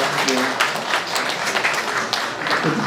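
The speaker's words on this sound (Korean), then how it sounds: "위로와 또 환영의 박수 보내드리겠습니다." A congregation at Ganghwa Anglican church in Seoul gives a warm round of applause, a dense patter of hand claps lasting a few seconds with some voices mixed in.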